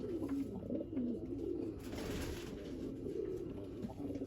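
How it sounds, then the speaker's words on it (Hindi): Old, aged Sialkot pigeons coo in a loft in Jammu, layered low throaty calls rolling on continuously, close and steady with a faint hiss of the room behind. "तो ये नायाब कबूतर हैं पुराने हैं सियालकोट के, वो उम्र दराज कबूतर हैं सारे।"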